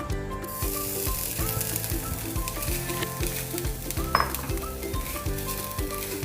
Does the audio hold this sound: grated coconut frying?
yes